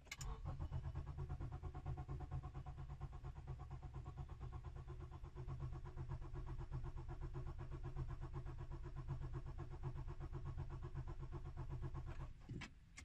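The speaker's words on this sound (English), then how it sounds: "Turn the ignition switch to start and hold it there for 10 seconds." A car engine cranked by the starter with the ignition held at start for about ten seconds during a compression test, a steady even whirring churn close by, stopping abruptly near the end.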